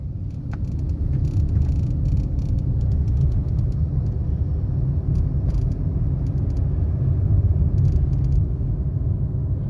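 A Maruti Dzire car pulls away during a driving lesson, its engine a steady, moderate low rumble that stays even throughout without much rise in pitch.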